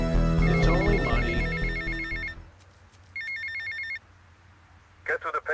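A payphone rings in GTA Vice City with a bright electronic trill in two short bursts, first layered over loud game music and sound effects, then alone, followed by a brief voice.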